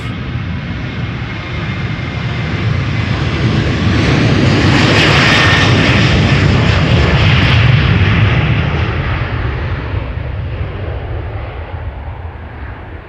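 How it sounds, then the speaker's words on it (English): A Transavia Boeing 737-800 takes off from Amsterdam bound for Reykjavik, its loud broadband engine roar swelling to a peak midway and then slowly fading as the jet climbs away, with no talk. "a Transavia 737 taking off right here. Going to Reykjavik."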